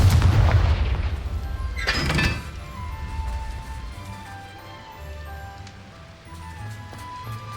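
A Confringo blasting spell explodes in the Hogwarts Legacy video game, with a heavy low boom at the start, a second sharp burst about two seconds in, then a rumbling low tail fading under game ambience.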